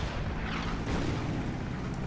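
Artillery fire in the strategy war game Order of Battle, US Marines campaign in the Marshall Islands: a continuous low rumbling boom with dense explosive texture that holds steady for about two seconds, with no voice over it.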